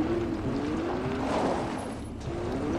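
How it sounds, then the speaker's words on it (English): Car engine in Fortnite, a steady droning motor with a rising whine, moderately loud and continuous over a short stretch. "I hear a car."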